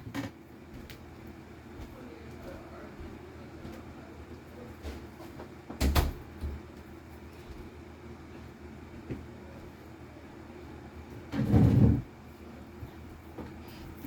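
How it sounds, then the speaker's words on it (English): Indoors, a door swings shut with a short knock early on, then closes fully with a louder, muffled thud several seconds later against a quiet room. "Excuse me, I gotta close the door."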